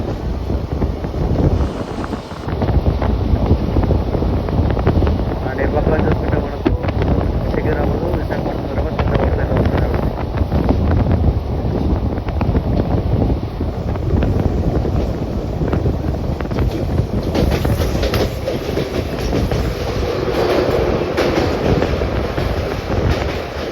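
The Ratnachal SF Express rounds a curve, heard from aboard a general coach as a steady, loud rolling rumble of wheels and carriages with heavy wind buffeting throughout.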